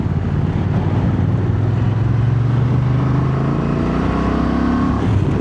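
A 2025 Honda Transalp 750 parallel-twin motorcycle engine pulls hard from onboard, its steady throb climbing smoothly in pitch through a long gear under constant wind rush, loud and close.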